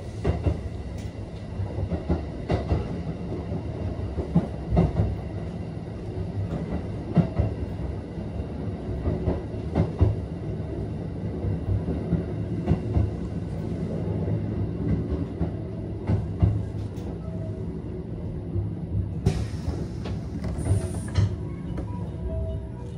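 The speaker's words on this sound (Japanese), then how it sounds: "また列車が左右に何度か大きく揺れますのでご注意ください。" Limited express Thunderbird train running on the Maibara detour route, a steady low rumble of wheels on rails with recurring clickety-clack joints and swaying creaks, near and continuous, with a brief high squeal near the end.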